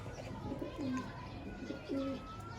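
Low pigeon coos repeat twice in a slow rhythm against steady background noise and faint chatter, at a pigeon club in Karachi.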